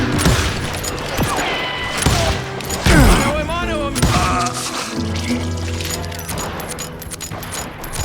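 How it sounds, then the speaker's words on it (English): Gunfire rings out in the video game Call of Juarez Gunslinger, with loud, busy volleys and sharp shots layered over voices and other game sounds at close, forceful level. "Shoot that sumbitch!"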